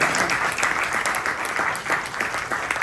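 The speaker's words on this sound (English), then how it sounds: "I think we should give her a round of applause." An audience at a lunch talk gives a warm, sustained round of applause, dense steady clapping at fairly close range with no voices over it.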